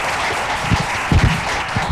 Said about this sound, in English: How about a round of applause for Don Hill and his team real quick